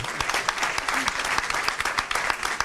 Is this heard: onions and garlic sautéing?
no